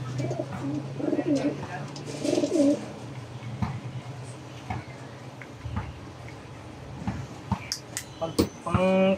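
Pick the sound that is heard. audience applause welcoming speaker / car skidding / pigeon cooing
pigeon cooing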